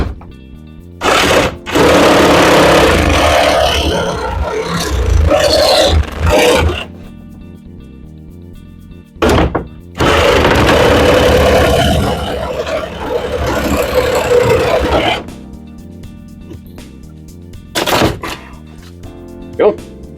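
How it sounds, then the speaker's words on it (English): A Sawzall reciprocating saw cuts out an electrical box in a basement wall, loud buzzing bursts in several runs of a few seconds each, separated by pauses and brief clunks. "I'm going to get this box out of here with the Sawzall"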